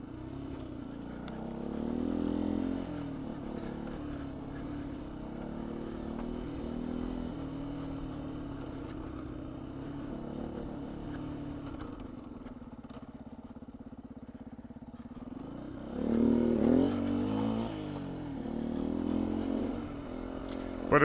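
A 2019 Beta 125 RR-S two-stroke dirt bike with 13-tooth front and 65-tooth rear sprockets rides a single-track trail over logs, its engine droning steadily near the mic and rising in two louder revving bursts toward the end.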